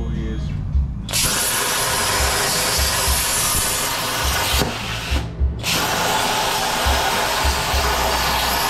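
A home-built CNC plasma table making a trial cut, a loud, steady hissing roar that starts abruptly, runs continuously, briefly cuts out and resumes, with a low rumble beneath and no clear talk.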